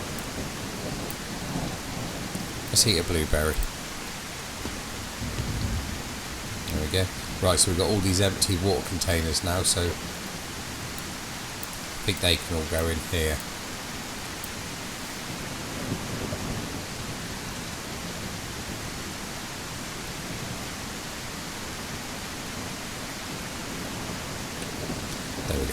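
Heavy rain pours steadily around an outdoor survival camp, a constant broadband hiss with low rumbling beneath, while someone talks nearby in a few bursts and then goes quiet as the downpour continues alone.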